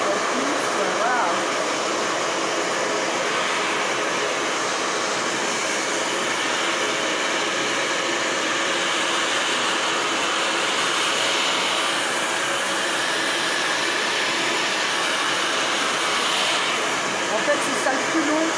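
A steady, loud broadband whoosh of a hair dryer blowing continuously, with no pauses.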